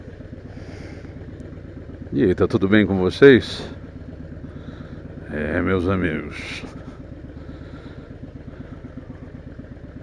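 A Harley-Davidson Dyna FXD idles with a steady low rumble on a morning ride through the town center of Varginha, its engine running under a man's speech.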